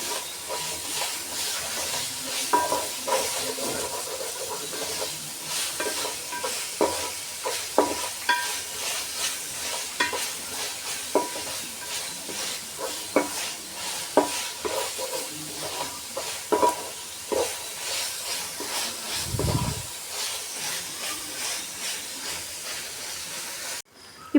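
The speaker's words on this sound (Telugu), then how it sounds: "అల్లం పేస్ట్ వేసినాక అడుగు పట్టేసిద్దండి, మనం కలుపుకుంటూ ఉండాలి, లేకపోతే మాడిపోతుంది మసాలా." Masala with ginger paste frying in a pan while being stirred, a steady close sizzle and hiss broken by repeated scraping clicks of the spoon against the pan.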